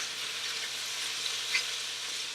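Onions sauteing in an Instant Pot, a soft, steady high hiss of sizzling with a couple of tiny pops, quiet and close, with no voices.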